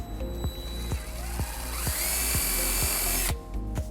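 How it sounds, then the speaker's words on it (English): A power drill with a 3/16-inch bit runs steadily, its whine rising in pitch as it bites through material, with a rhythmic ticking underneath, then cuts off near the end. "we're going to use a 3/16 drill bit and drill our first hole"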